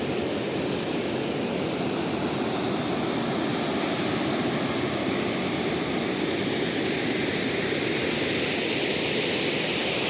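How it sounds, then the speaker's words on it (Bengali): Steady, dense roar of falling water from a small waterfall near the Seven Sisters Falls viewpoint at Cherrapunji, continuous and fairly loud throughout with no voices. "এই ঝর্ণার পুরো জলের আওয়াজ"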